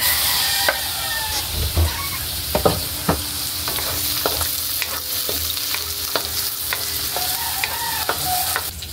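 Tomatoes and mixed vegetables sauté in a hot pan with a steady, continuous sizzle. A utensil scrapes and stirs the pan now and then, with sharp clacks standing out above the frying.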